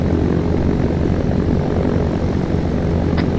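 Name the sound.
Cessna propeller plane engine in Arma III video game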